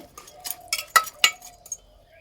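A metal lid goes onto a pressure cooker holding potato curry, giving a few sharp clinks and clanks of metal on metal, close and fairly quiet, with no talking.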